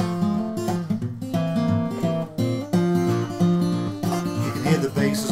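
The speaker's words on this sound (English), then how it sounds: "can hear the basses are muted." Acoustic blues guitar played fingerstyle in E with the bass strings palm-muted, short damped bass notes under ringing treble phrases in a steady rhythm, close and clear with no talking.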